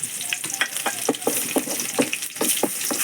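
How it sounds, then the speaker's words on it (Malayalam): Chopped shallots frying in a hot pan for a mackerel curry with coconut and mango, a steady crackling sizzle broken by repeated stirring clicks, close and alone with no talk. "ഒരു രണ്ട് ചെറുള്ളി അരിഞ്ഞത് അതിനകത്തേക്ക് ഇട്ട് കൊടുക്കാം"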